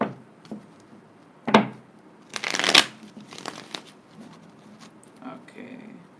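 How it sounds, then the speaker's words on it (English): Tarot cards are shuffled in a few quick riffling bursts and soft taps, close and crisp, separated by brief quiet pauses. "couple more shuffles and I'll begin."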